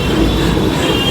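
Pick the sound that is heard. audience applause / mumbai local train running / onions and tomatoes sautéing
mumbai local train running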